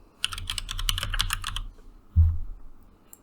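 Rapid keystrokes clatter on a computer keyboard in a quick run of close, crisp taps, then stop and give way to a single dull thump, with no talking.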